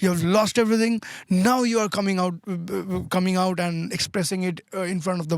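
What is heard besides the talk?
No distinct noise like a dog, phone or traffic.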